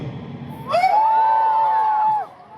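A comedy-night audience in Trivandrum lets out a sustained collective hoot on cue, a single loud rising-and-held howl of many voices lasting over a second before fading.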